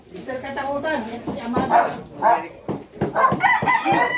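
A rooster crows among many chickens and other birds, with people talking nearby and a dog's bark mixed into the busy background.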